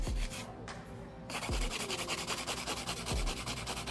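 C-curve nail tips being shaped with a hand file, a steady close rasping scrape with soft rhythmic strokes running throughout.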